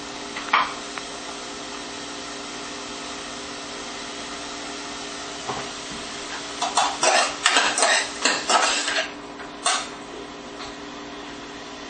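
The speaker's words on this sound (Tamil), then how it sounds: "லைட்டா வதங்கினோடனே இஞ்சி பூண்டு பேஸ்ட் போட்டுக்கணும்." Onions sautéing with ginger garlic paste in a pan, a steady hiss under clattering stirs of a metal spoon that grow busier and louder near the end, close and with no talking.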